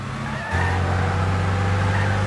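A car in a Gran Turismo 6 drag race accelerates, its engine holding a loud, steady low drone that rises suddenly after a brief quieter start and then stays sustained, with no talking.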